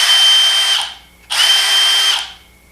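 A Porter Cable PCC607 1/2-inch brushless drill driver runs in two steady whirring bursts, each under a second or so, with a brief pause between them; no clicking, close and fairly loud.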